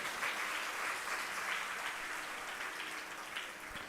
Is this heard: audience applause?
yes